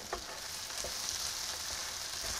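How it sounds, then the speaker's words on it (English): Garlic frying in a pan, a soft continuous sizzle with a few light taps and stirs, fairly quiet and steady with no voices. "At this point of time, we're going to add some garlic."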